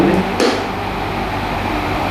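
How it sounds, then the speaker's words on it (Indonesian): An EZZRALE Deimos I mini projector's cooling fan running at level 1 makes a steady low whirring hum, close and continuous, with a couple of faint clicks near the start. "kita akan melihat juga bagaimana kebisingan dan suara dari si kipas saat di level 1 sampai level 5"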